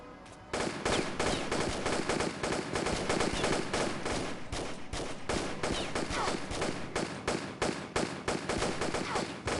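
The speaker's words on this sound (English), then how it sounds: "I'm still shooting him." Sustained machine gun fire in the Tomb Raider remastered video game: loud, rapid bursts of gunshots that run almost continuously for about nine seconds after a brief quieter start.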